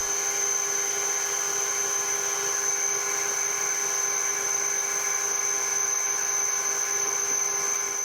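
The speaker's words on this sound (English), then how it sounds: "I'm just going to drill it out and then bore it" An excavator pin bushing on a Yanmar excavator is drilled out, giving a steady, continuous high-pitched machine whine with a constant hum underneath and no pauses.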